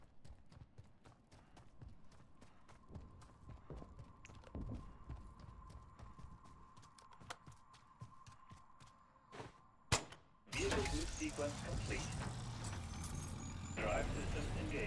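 Armored ACV vehicle in Call of Duty MW3 Zombies starts up after a stretch of rhythmic clopping footsteps: a sharp thump, then a loud, steady rumbling engine drone that continues to the end, with game voices heard.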